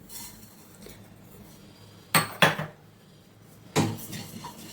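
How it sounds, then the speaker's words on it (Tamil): Cumin seeds, 50 grams, tipped into a tumbler while preparing a small batch of kuzhambu chilli powder: three sharp rattling, clinking bursts, the first two close together and a third a moment later, over a quiet room. "சீரகம் பார்த்திங்கன்னா இந்த டம்ளரில் வந்து நான் 50 கிராம் ஜீரகம் போடுறேன்"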